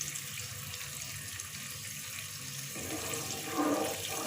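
Soaked rice is tipped into a pot of boiling water for cumin rice, making a steady watery rush and bubbling, with a brief louder splash near the end.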